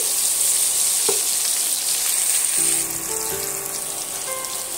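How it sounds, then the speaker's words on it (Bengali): Boiled potatoes coated with turmeric fry in a pan for malai curry, giving a steady, close hissing sizzle that holds throughout, with a faint low hum joining in partway. "আমার এখানে 1 পিঠ করে আলুগুলো ভাজা হয়ে গেছে"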